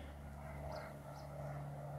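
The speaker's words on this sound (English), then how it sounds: "Somebody's out doing their flight training today, doing circles up" A small propeller training plane circling overhead drones steadily, a faint, continuous engine hum with a low buzzing tone that neither fades nor swells much.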